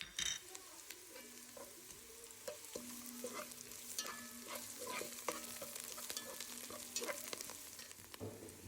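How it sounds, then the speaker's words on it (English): Onion paste is stirred and fried in a pan for chicken pulao: a quiet, continuous sizzle broken by repeated scraping strokes of a spoon against the pan, spaced about every second. "Stir in the onion paste and cook for a minute."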